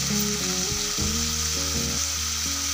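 Tomatoes with chilli powder sautéing in a pan for a Tamil dry fish curry, a steady close sizzle running throughout with background music over it.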